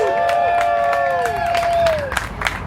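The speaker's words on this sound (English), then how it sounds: "Give yourselves a round of applause" Outdoor graduation crowd in a park applauding and cheering, dense clapping with whoops and whistle-like cries, fairly loud and continuous.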